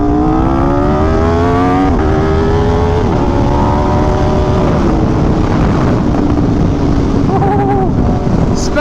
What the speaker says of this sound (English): It's really hard to beat the sound of this bike.